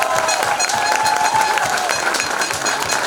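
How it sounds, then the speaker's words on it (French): A crowd at a celebration in La Rochelle, Charente-Maritime, claps to welcome an athlete, a dense, even wash of applause that stays loud throughout with no talk over it. "sous vos applaudissements, Charline Picot."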